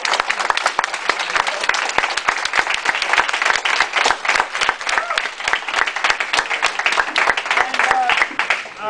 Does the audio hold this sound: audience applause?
yes